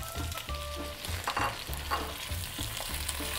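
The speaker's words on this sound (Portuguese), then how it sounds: "E a gente vai refogar isso aqui" Onion, garlic and yellow chili pepper sauté in a pan, giving a steady sizzle with repeated scraping and stirring strokes and no talk.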